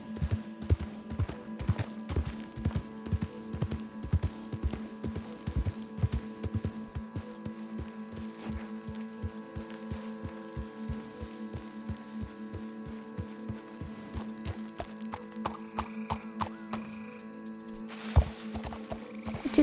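Horse hooves clip-clop at a steady trotting rhythm in the Red Dead Redemption 2 video game, close and distinct, with a brief whinny near the end and a faint hum underneath.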